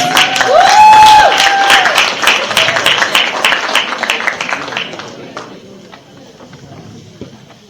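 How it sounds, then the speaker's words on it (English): A crowd claps with scattered cheers and a whoop near the start. The applause gradually thins and fades toward the end. "Please help her with your round of applause."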